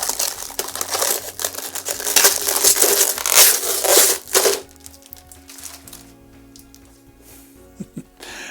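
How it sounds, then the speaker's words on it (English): Plastic wrap crinkles and tears as it is peeled off a brand-new Arrma Vorteks Boost RC car. Loud crumpling for about four seconds, then quieter rustles and a few small knocks. "It's getting the plastic off."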